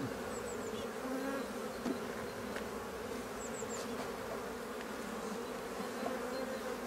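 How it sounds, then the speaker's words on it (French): Honeybees buzz around an open hive during a spring inspection, a soft, steady drone of many insects with a few faint clicks and no talking. "Je vois les abeilles frétiller, c'est normal."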